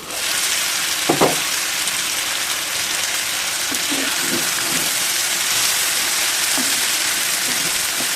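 Vegetables frying in a pan for a broad bean (chikkudu) curry, a steady dense sizzle running throughout with a few brief stirring knocks, close and continuous with no talk.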